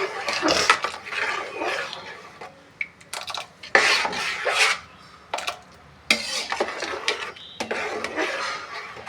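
Repeated scraping and rubbing in a pot in uneven bursts, close by, with brief pauses between strokes, as finger-millet dough for papad is stirred.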